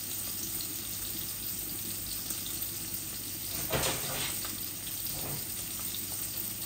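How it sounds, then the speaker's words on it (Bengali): Bacha fish frying gently in a pan for a sour curry, giving a steady close sizzle and hiss throughout, with a brief clatter of stirring or handling near the middle. "মাছগুলো আস্তে আস্তে ভাজা হোক, আমি এত কড়া করে ভাজবো না।"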